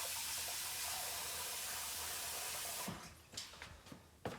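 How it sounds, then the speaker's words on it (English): Water runs steadily from a tap into a small cooking pan in a home kitchen for about three seconds, then stops, leaving a few close clunks and handling knocks. "Put some water."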